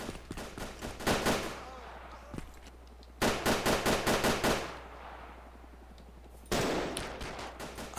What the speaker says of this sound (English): That was a machine gun.